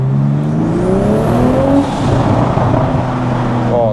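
Toyota GR Supra fitted with a titanium exhaust and ARMASPEED intake revs hard through a tunnel at night with the windows down, a loud, near engine rising in pitch in repeated surges, with no talk.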